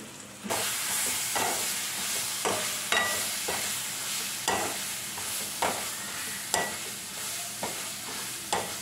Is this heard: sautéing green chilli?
yes